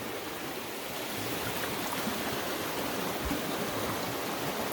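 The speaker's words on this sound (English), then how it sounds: "Been a lot of rain this year, and the creek's coming down pretty good." A creek running high and fast after heavy rain in a state forest, a steady broadband rushing of water that stays close and unbroken throughout.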